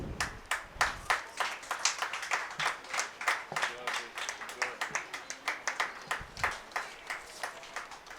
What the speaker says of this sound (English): the audience, the heart-warming moment where we honor and applaud the wonderful efforts of our budding Picassos